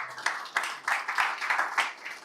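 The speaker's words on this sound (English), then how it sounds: "Everybody give a round of applause for Greg Dixon." An audience welcoming a volunteer at a live-streamed talk on AI reasoning with a round of applause: a short burst of scattered, moderately near hand claps, uneven in rhythm and fairly soft overall.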